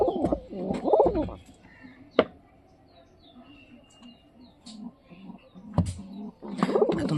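A pair of pigeons coo nearby in soft, throaty bursts, with scattered rustles and clicks in between and quiet voices talking at moments.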